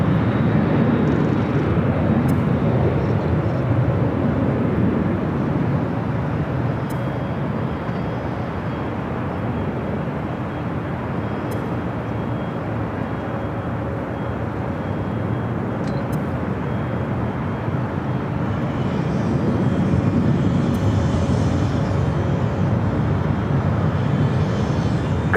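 A Qantas jet arriving from Sydney on final approach to land at LAX, a broad, steady engine roar and rushing rumble that swells slightly near the end, heard at a distance with no talk.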